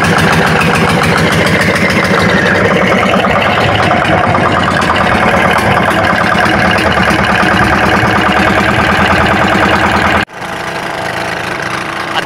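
An engine runs during sand extraction, a loud, steady rumble with a knocking pulse that suddenly drops to a quieter hum near the end.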